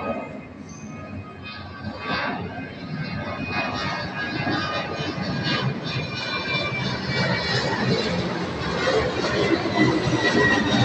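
Jet airplane passing near Soekarno-Hatta airport, a broad roar that swells steadily and grows louder over about eleven seconds, heard from a distance with no talk.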